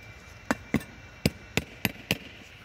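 Six sharp, hollow knocks tap out at uneven intervals on a concrete tennis court surface with air underneath, close and distinct against a quiet background.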